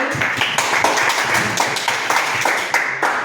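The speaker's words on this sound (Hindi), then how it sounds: "इसके लिए आप तालियां बजाइए।" Students at a school sports quiz clap together in a loose, uneven rhythm, individual hand claps standing out as distinct sharp hits close by throughout.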